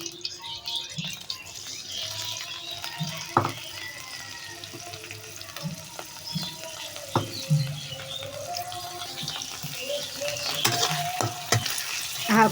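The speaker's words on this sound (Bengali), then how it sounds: "এখন এটা তেলের মধ্যে ভেজে নিই।" Washed dried fish (shutki) crackles and sizzles in hot oil, close up, with sharp clinks and scrapes of a spatula against the pan as it is stirred.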